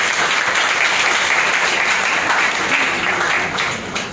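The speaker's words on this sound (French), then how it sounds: "on applaudit son travail même s'il n'est pas là" A full, continuous wash of audience applause fills an award ceremony hall, loud and even throughout with no voices over it.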